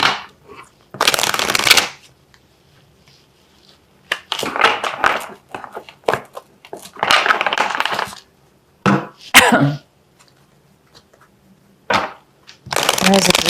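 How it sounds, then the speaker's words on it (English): Tarot cards being shuffled up close in several loud, crisp riffling bursts separated by pauses, with faint soft sounds in between. "let's go ahead and pull a clarifying card for this Three of Wands here"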